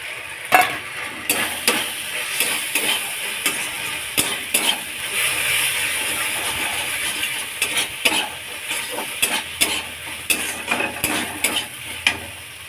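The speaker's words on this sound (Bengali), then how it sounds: "ভেজে রাখা চিংড়ি মাছটা দিয়ে দিচ্ছি।" Fried prawns tossed into a hot pan, a steady broad sizzle under repeated close scraping and clinking stirs, with sharper spatula knocks spaced through the whole stretch.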